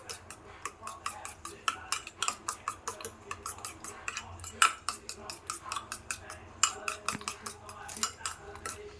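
Eggs with salt, chilli powder and masala beaten in a bowl for an omelette, a quick run of light clinking strokes of utensil against dish, steady and close with brief pauses.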